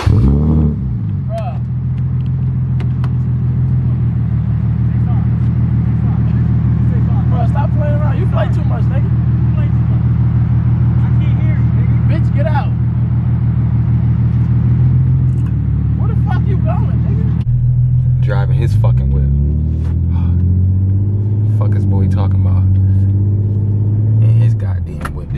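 A car engine rumbles and revs steadily at close range for a long stretch, shifting pitch partway through as the car drives, with people talking over the motor.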